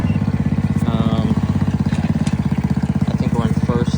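Small engine of a mini chopper motorcycle with a four-speed gearbox chugging in first gear, a loud, close, steady pulsing idle with a voice speaking over it.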